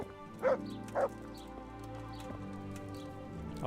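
A dog in Kingdom Come Deliverance gives two short, clear barks about half a second apart, then falls silent over a low, steady background hum.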